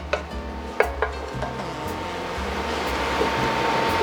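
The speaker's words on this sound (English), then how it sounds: "Give that a good mix." Ground beef, turkey and onions are stirred together in a chili pot, with a soft continuous scraping and sizzling and a few sharp utensil knocks against the pot early on.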